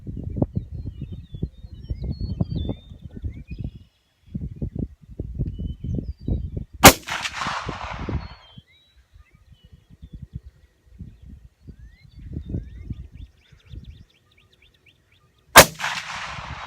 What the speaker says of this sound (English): we're going to run 3 rounds of surplus, and we're going to run 3 rounds of hand loads